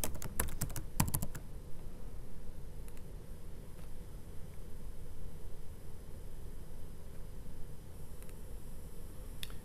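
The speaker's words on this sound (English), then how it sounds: "I'll put the password in." A password is typed on a computer keyboard in a quick burst of close, crisp key clicks during the first second, followed by near silence with a few faint isolated taps.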